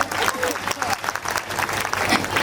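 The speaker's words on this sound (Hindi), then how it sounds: "तरफ से तालियां बजाएं।" Applause from an audience at a school annual function in India, a steady dense patter of many hands filling the space, with some voices mixed in under it.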